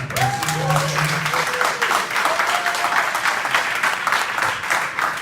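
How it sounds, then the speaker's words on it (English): Meetup audience gives a round of applause, steady mixed clapping throughout, with a voice briefly heard over the start. "can I get a round of applause for Mark for his first"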